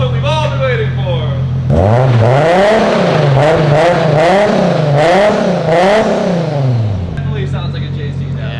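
A four-door Toyota Supra with a JZ engine revs hard in repeated rising and falling pulls, loud and close, with a steady idle before and after the revving.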